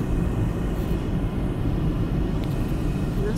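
An airplane flies overhead in the open air at sunrise, heard as a steady, low, continuous drone and rumble that holds at an even level throughout with no other clear sounds.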